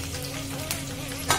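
Curry leaves and green chillies frying in a tempering for mango rice, a steady close sizzle with a sharper crackle near the end, no voices.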